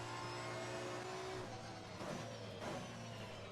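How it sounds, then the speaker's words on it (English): A race car in Assetto Corsa Competizione with its traction control kicking in, a steady engine drone broken by rough, stuttering bursts as the electronics cut power. It plays fairly quietly throughout. "you can really hear the traction control always kicking in"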